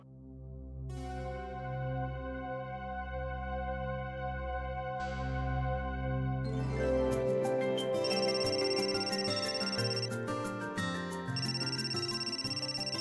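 Mobile phone ringtone for an incoming call, a melodic electronic tune of sustained tones that shifts into a busier repeating pattern, steady and unaccompanied by talk.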